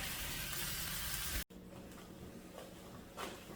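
Crab cake ingredients sizzle as they cook down in a pan, a steady frying hiss that cuts out briefly and then returns softer with faint stirring sounds.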